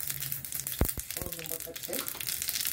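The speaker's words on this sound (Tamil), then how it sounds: "கரண்டியில் எண்ணெய் ஊற்றி வச்சுமா. கொஞ்சம் கடுகு போட்டாச்சு" Mustard seeds crackle in hot oil in a small ladle, with a few sharp pops and soft sizzling at low volume while someone talks nearby.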